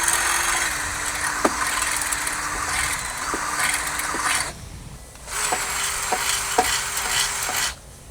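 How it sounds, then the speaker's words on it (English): A power drill fitted with a 5/16-inch pilot bit bores starter holes for rear grab handles on a Ranger 1500 XD, its steady whirring motor running in two close bursts separated by a short pause. "I'll use our 5/16 pilot bit to start our holes."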